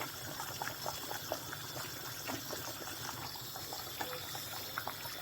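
Native soup boiling steadily in a pot, a continuous bubbling and gurgling wash with scattered small pops, moderately close and even throughout, no talking.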